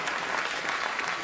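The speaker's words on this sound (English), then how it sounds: "what the audience is telling us with that applause is, move on from these shaking more than things" A studio audience at a late-night talk show claps in a dense, steady wash of applause that fills the whole short moment, with no single voice standing out.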